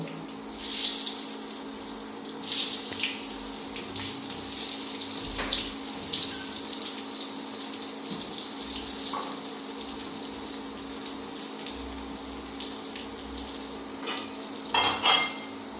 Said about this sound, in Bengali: তেল গরম হয়ে গেছে, এখন আমি কাটা বেগুনগুলি দিয়ে দেব।